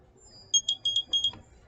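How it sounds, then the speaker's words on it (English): A battery-powered doorbell buzzer in a simple series circuit sounds a quick run of five or six short, high electronic beeps, close and clear over a quiet background. "we've got our operating doorbell, which is off a series circuit as well"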